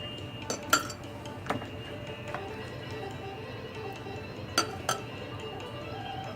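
A metal spoon clinks and taps against a jar while pressing masala into stuffed raw green mango pickle, a few sharp scattered knocks over quiet background.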